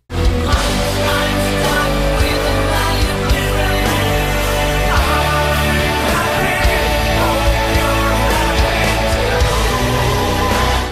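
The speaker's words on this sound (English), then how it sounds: "orchestra-heavy metal track that packs one hell of a punch" Dense, loud orchestral metal cover with heavy distorted guitars, driving drums and full orchestral layers playing continuously.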